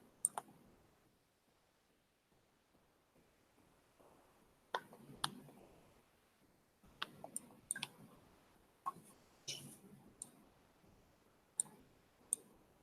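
Sharp computer mouse clicks sound alone and close over a near-silent background, some single and some in quick pairs, with longer pauses between them.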